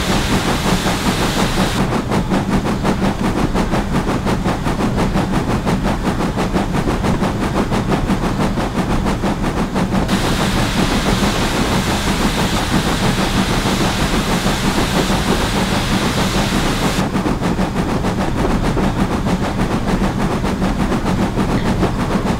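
Steam locomotive working hard to pull a heavy train, a loud, continuous roar of exhaust and hissing steam with rapid rhythmic chuffing and rail clatter, close by and without any talk.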